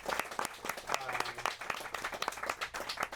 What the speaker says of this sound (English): can I get a round of applause for everyone?